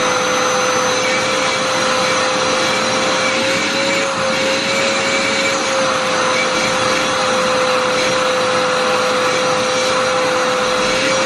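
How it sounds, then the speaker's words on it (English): Vacuum cleaner hoovering continuously at close range, a loud steady motor drone with a constant whine and no talking. "Look, you can just tell that's going to be so satisfying to fucking hoover."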